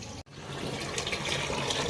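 Water pours steadily into a container during house cleaning in a village home, a close continuous filling rush after a brief cut near the start.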